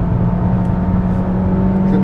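A Peugeot 308 GT Hybrid 225 plug-in hybrid from 2022 pulls hard out of a curve, a loud, steady engine drone with a low whir from inside the cabin, unbroken and close.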